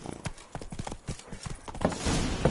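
Horse hooves clip-clop at a walking pace in The Witcher 3: Blood and Wine, a run of distinct thuds up close before a brief rising rush of ambient noise at the end.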